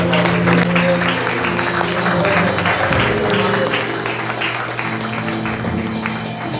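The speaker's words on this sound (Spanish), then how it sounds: "Denle un aplauso al Espíritu Santo." Church congregation at a Spanish-language service claps over a steady low hum and organ-like tones, with the applause strongest early and easing after a few seconds.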